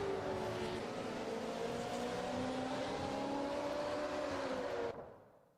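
A historic race car engine in the Automobilista 2 racing game drones loud and steady at high revs for about five seconds, then cuts off and fades quickly.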